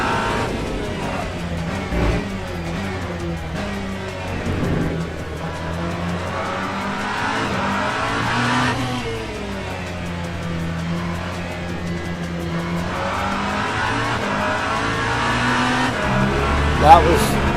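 A hypercar in a racing video game roars at full throttle over a crest, its loud engine sustained and rising in pitch as it climbs through the gears, with some tyre noise mixed in.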